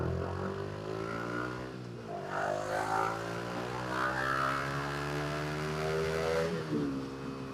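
A Yamaha MT15 motorcycle with a 155cc engine revs at full throttle on a busy Bangkok road, its rising engine note climbing in pitch under steady traffic and wind noise.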